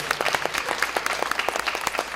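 An audience at a Korean talk show claps, a brief burst of steady, moderately loud applause from a crowd that fills the moment evenly.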